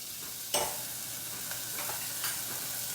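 Onions dropped into a hot pan begin to sizzle steadily, with a sharp hiss at the start and a few light stirring scrapes over continuous frying noise, close by and without speech.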